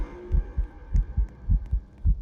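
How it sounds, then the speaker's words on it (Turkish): A fast heartbeat in the Roblox game Lights Out, heard as deep, loud, regular double thumps repeating quickly and alone over a faint steady hum. "kalp atışların çok hızlı"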